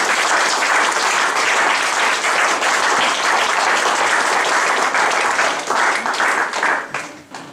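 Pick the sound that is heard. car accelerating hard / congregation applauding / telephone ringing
congregation applauding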